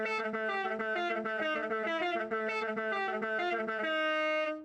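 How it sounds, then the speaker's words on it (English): A Doom E1M1-style car horn from the racing game Forza Horizon 5 blares a quick riff of bright, buzzy tones, loud and alone, ending on a long held note. "the Doom E1 M1 high car horn, which sounds a bit like this"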